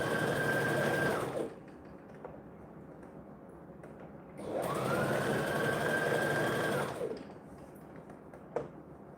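Sewing machine hems a birthday tutu in two steady whirring runs of a few seconds each, separated by a quiet pause with faint handling clicks.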